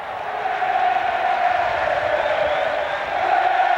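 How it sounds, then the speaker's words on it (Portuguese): A large football crowd at a 1998 Campeonato Carioca match between Fluminense and Vasco da Gama makes a continuous roar of cheering that swells near the end, heard from a distance. "E a torcida está empolgada."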